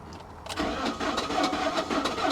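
A 2002 BMW 325Ci engine cranking over with a rhythmic, rapid chugging beat, loud and close, steady for about two seconds with no voices.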